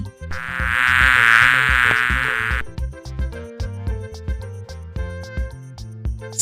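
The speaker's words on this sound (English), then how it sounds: "Bee." A bee buzzes loudly and close for about two seconds with a rising and falling drone, then cuts off while a bouncy children's music track plays throughout.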